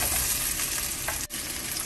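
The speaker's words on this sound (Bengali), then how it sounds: "আমার মাশরুম ভাজা হয়ে গেছে" Mushrooms fry in a pan with a loud, steady sizzle and crackle that breaks off for a moment near the middle, with no talking.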